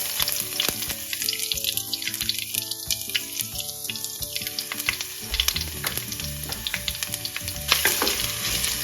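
Ginger, fenugreek seeds and curry leaves sauté in hot oil for a peach pickle, giving a continuous close sizzle with stirring scrapes and sharp crackles.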